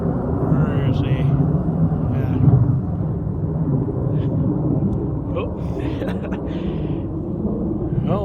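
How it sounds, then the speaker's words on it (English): Deep, steady rumble of a B-1 bomber passing overhead near a camp at the Sturgis Motorcycle Rally, a broad low roar filling the whole stretch at fairly even loudness, with small incidental clatters on top. "I just had a B-1 bomber fly over"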